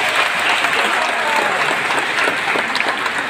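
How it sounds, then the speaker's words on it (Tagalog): Loud, sustained applause from the crowd at a mass community wedding, the claps blending into a dense wash with a few sharper individual claps near the end. "atin sila ngayon masalubungan ng masigabong palakpakan"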